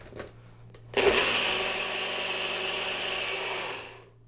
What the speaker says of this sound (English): you do want to blend enough that those coffee crystals dissolve